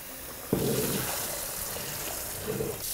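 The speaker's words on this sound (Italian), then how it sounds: "Apro l'acqua fredda perché devo interrompere la cottura del riso." Cold tap water runs over freshly cooked rice being drained for a rice and tuna salad, starting with a sudden gush and continuing as a steady hiss of flowing water.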